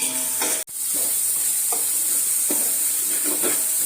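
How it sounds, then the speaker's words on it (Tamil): Ginger garlic paste fries in a pan for chicken biryani, a loud, close hiss with soft periodic scraping strokes of stirring and one brief dropout near the start. "பச்சை வாசனை போகிற வரைக்கும் ஃப்ரை பண்ணணும் இஞ்சி பூண்டு."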